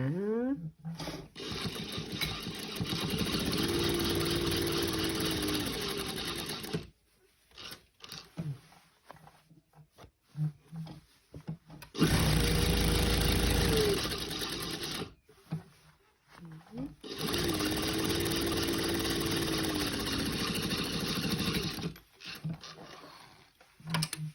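Sewing machine stitching a welt pocket runs in three long, steady mechanical stretches with a rhythmic clatter, broken by short quiet pauses and handling noises.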